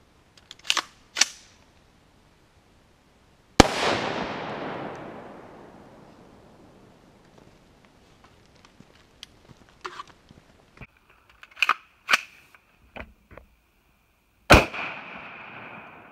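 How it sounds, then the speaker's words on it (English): A rifle round fired at a Level IIIA bulletproof panel gives one loud, sharp crack with a long decaying tail, followed by scattered softer clicks and a couple of nearer snaps. "Now we're gonna try a rifle round."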